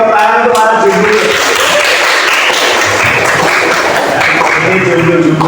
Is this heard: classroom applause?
yes